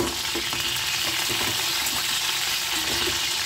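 Thin chicken strips frying in white oil, a dense hiss that stays loud and near the whole time, with light crackles and faint stirring knocks beneath it and no talking.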